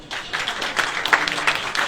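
Brief applause from a forum audience, moderately loud and steady across two seconds, with no speech over it.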